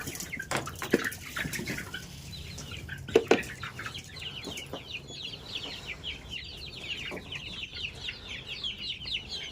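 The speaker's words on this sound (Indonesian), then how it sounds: "Ini udah mulai beberapa ekor belajar berkokok kongkorongok." Free-range village chickens in a large coop cluck continuously, and young roosters attempt thin, squeaky crowing among them, with a few loud knocks and thumps early on; close and busy, no talking.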